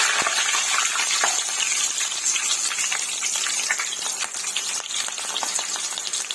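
Chicken pakoda with three green chillies frying in hot oil gives a continuous crackling sizzle with bursts of popping, steady and close throughout.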